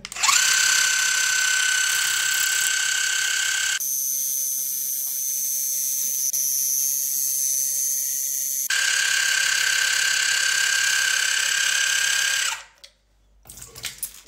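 An electric water flosser cleaning between the teeth along the gumline gives off a steady high motorized whine with a watery hiss, pauses briefly midway, resumes, then cuts off at the end.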